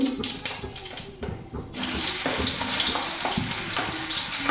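Onions and cumin frying in a pan, a steady bright sizzle carrying on throughout with a brief dip in the middle, close and fairly loud, with faint clatter of a spoon or spatula.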